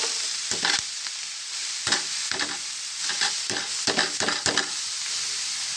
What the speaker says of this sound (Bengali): এখন আমি কলাই শাকটা দিয়ে দেবো।